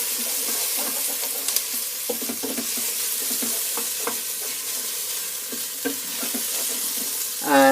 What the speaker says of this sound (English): So if those onions are softening, you can see that. Just going to keep stirring those for 2 or 3 minutes now.